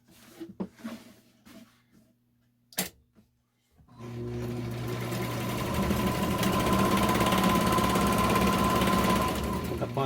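A SewMor 606 sewing machine, with its tension freshly adjusted, starts up after a few knocks and handling clicks and then stitches continuously with a loud, steady mechanical whir that runs to the end.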